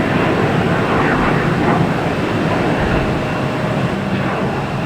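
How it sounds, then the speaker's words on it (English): A JetBlue Airbus A321 jet at Boston Logan Airport, arriving from Las Vegas, with a loud, steady broadband engine roar close by that fills the whole stretch without a break. "JetBlue here coming from LAX. Sorry, Las Vegas. Las Vegas, flight 978. Flight, it's an A321."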